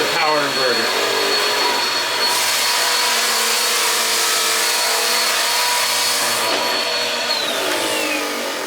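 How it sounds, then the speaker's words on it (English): A vacuum cleaner runs steadily off a camping lithium battery through a power inverter, a loud continuous motor whine and airflow roar that holds for the whole stretch, with a brief pitch shift near the end. "Running a vacuum off of the battery here using the power inverter."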